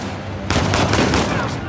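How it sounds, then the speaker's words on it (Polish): Bursts of automatic gunfire from a firefight in the action video game Uncharted: The Lost Legacy start abruptly and continue loudly and densely, with a voice faintly mixed in. "ale no strzelają, Nadine, strzelają!"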